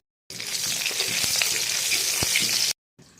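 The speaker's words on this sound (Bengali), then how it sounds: "এবার আমি কালো জিরেগুলো দিয়ে দিলাম।" Nigella seeds (kalo jeera) drop into hot oil in a pan used for frying potatoes for a Bengali hilsa fish dish, giving a loud, close, steady sizzle for about two seconds that cuts off abruptly, then a short faint return.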